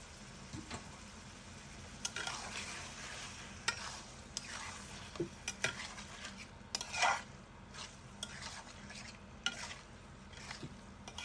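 Shrimp being stir-fried for malaikari in a home kitchen pan, with steady scraping and stirring over a soft, continuous sizzle and occasional clinks of utensil against metal, close and moderately loud, no talking.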